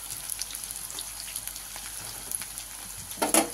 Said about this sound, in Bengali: আর সঙ্গে দিয়ে দিলাম রসুন কুচিটা।